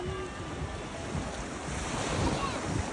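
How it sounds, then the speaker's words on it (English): Sea waves break and wash on a beach at an Olympic coast in Greece, a continuous close roar of surf with strong wind buffeting the microphone, swelling louder toward the end. "All right, we're walking along the water."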